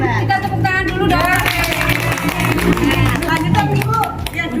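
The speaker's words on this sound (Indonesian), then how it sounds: "Kita tepuk tangan dulu dong." A small group claps in a rapid, steady patter during a snakes-and-ladders board game, with voices and lively chatter running underneath throughout.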